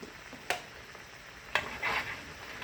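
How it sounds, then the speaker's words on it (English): A shrimp cream sauce comes to a gentle boil in a pan, a soft sizzle and bubbling with a couple of sharp clicks from stirring, quiet and close, with no talking. "That comes to a little boil."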